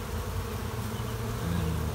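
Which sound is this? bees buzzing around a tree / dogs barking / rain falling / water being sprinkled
bees buzzing around a tree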